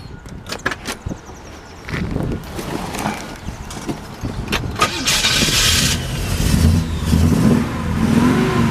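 A 1966 Pontiac LeMans Sport Coupe engine turns over after a few clicks and thumps, then catches and settles into a steady, moderately loud idle rumble, heard close with no speech.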